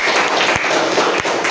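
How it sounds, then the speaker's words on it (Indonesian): A classroom group applauds together, a dense close wash of clapping hands that holds steady for a moment with brief dips. "tepuk tangan kita semuanya"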